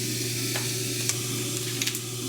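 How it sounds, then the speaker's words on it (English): Burgers frying in a hot pan make a steady, close sizzle, dotted with a few brief crackles and pops. "now we are going to fry up these burgers"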